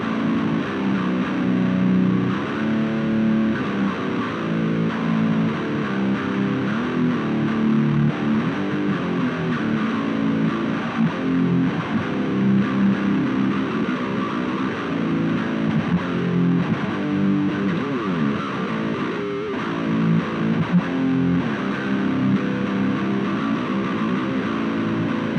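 A high-distortion electric guitar played through a small amp, its cabinet miked with a single JZ Black Hole microphone, grinds out a dense, steady, sustained riff at full volume for about twenty-five seconds with no talking.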